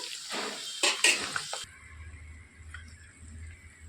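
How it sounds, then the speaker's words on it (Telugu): A spoon stirring stuffed bitter gourds frying in a pan: several sharp scrapes and clatters against the metal, then a quieter stretch of low, soft sizzling. "ఇలా తిప్పుకుంటూ బాగా మాడిపోకుండా మంచి రంగు వచ్చే వరకు వేయించేసుకోవాలి"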